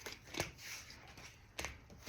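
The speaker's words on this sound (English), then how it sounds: "So when I shuffle." Tarot cards being shuffled by hand, a few soft papery riffling bursts separated by quiet pauses, faint and close.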